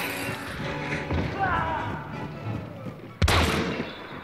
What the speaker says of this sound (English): Hey, man, you ain't got to be shooting at me.